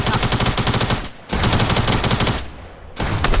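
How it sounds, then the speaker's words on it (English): Rapid bursts of SMG fire in a Fortnite match, loud and close, with two short pauses between sustained volleys. "Ja, weer de SMG."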